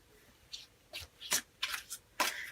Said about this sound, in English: I'm going to just do a quick shuffle